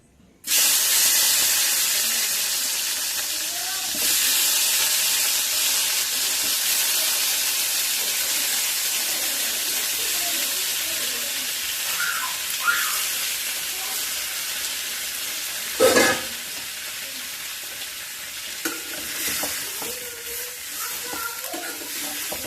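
Tomato pieces fry in hot oil in a pan for a Telugu tomato and dried red chilli chutney, giving a loud, steady sizzle with bursts of spitting and stirring, with no voices.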